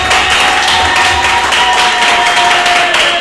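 A church congregation applauds to acclaim Jesus, a loud, steady wash of many hands clapping together throughout, with a sustained tone and faint crowd noise underneath.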